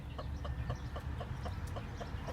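An Indian game rooster with its wing clipped clucks in quick repeated notes against steady low background noise, moderately close.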